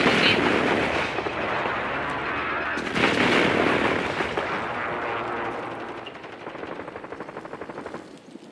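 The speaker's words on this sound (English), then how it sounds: "Hostile airstrike incoming." Hostile airstrike explosions pound during a video game, making a loud, continuous wall of booms and rapid gunfire-like crackle that eases slightly toward the end. A voice speaks faintly underneath.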